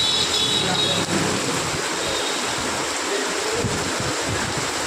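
A heavy downpour rushes steadily and loudly outdoors, a dense continuous roar with no pauses.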